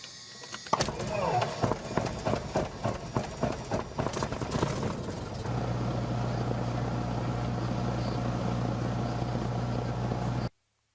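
A Cessna 172M piston aircraft engine cranks with rapid stuttering pulses, catches and settles into a loud, steady idle drone that runs until an abrupt cut at the end.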